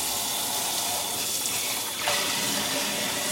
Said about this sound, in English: wash each skein of yarn individually and carefully with dish soap until